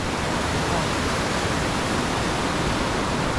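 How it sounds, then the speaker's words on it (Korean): A waterfall on a cold mountain hiking trail roars with a dense, unbroken rush of falling water, loud and close, steady from start to finish with no voices. "다시 여기 폭포에 왔습니다."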